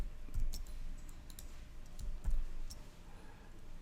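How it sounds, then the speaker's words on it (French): A computer mouse clicks once on a create button in Adobe Illustrator, a soft click heard close over a quiet background, with a few faint ticks around it. "Je clique sur créer."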